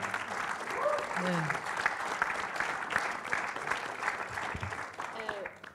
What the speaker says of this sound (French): Fred Catoni, tonnerre d'applaudissements